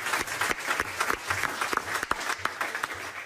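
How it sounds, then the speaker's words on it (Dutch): Audience applause for swimmer Marit Steenbergen at a sports awards event, a modest crowd clapping with distinct individual claps audible, moderately close. "Een applaus voor Marit Steenbergen"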